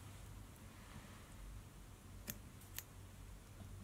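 Scissors trimming fly-tying fibres at an angle while tying a fox squirrel crayfish pattern; two quick faint snips stand out against a quiet room hiss.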